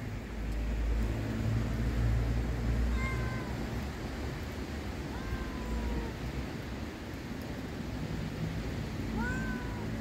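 A street cat in a Yalta neighbourhood yowls and meows in several drawn-out, rising wails spaced a few seconds apart, heard at moderate distance over outdoor background noise.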